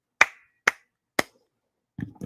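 Three sharp, evenly spaced hand claps ring out alone, each decaying quickly, followed by a brief muffled rustle.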